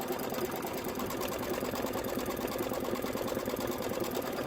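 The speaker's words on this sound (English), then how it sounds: "And now we are ready to do our quilting." A sewing machine quilting with white thread on a candy corn quilt runs in a steady, fast, even whir, close and continuous throughout with no pauses.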